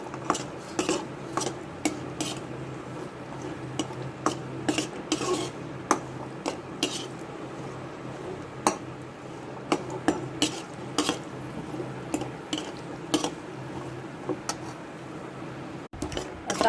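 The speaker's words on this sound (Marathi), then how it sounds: "आता थोडेसे कॅश्यूज घेतलेत आणि ते आपण थोडेसे तुपावरती तळून घेऊ" Cashews frying in ghee in a pan are stirred, giving light repeated clinks and scrapes of a spoon on metal over a faint low sizzle, fairly quiet.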